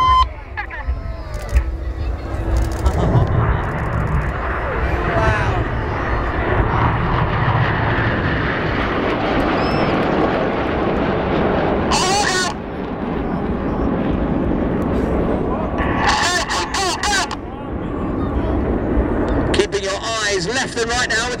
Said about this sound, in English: They're using full power, max performing the aircraft back towards us.